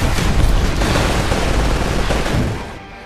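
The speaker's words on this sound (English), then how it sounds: "There is constant gunfire, explosions, and metal relentlessly smashing into each other." Dense, continuous gunfire with booming explosions and metal smashing in the video game Titanfall, a loud chaotic battle barrage that thins out near the end.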